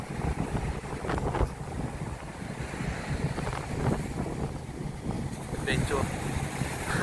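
Strong wind buffets the microphone at a beach resort in Laiya, Batangas, a steady roar with gusts and possible surf beneath, with a voice faintly heard at times.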